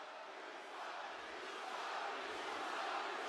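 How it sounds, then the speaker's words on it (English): Arena crowd at a WWE Raw wrestling broadcast, a steady roar of jeering and shouting that swells slightly, distant and continuous with no clear voices. "This crowd giving him the business."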